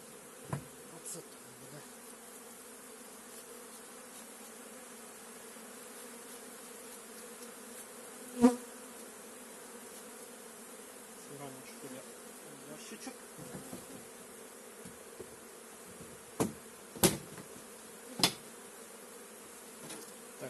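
Honeybees buzz steadily around an open hive as frames are shaken out, a dense droning hum throughout with a few sharp knocks and bumps of the frames, close and without speech.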